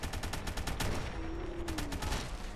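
Rapid bursts of automatic fire from a Brel submachine gun in Fallout 4, a fast stuttering rattle repeating close and loud across the moment with no talking.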